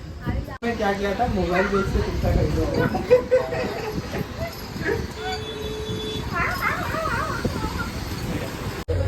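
A dog yips and whimpers in short, high whines and brief barks, with people talking loudly over it close by.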